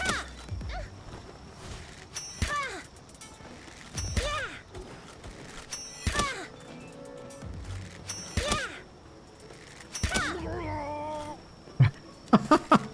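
Cat noises from a creature in the Palworld video game, several drawn-out yowling calls repeating every couple of seconds over busy game sound effects and music, with a few sharp clicks near the end.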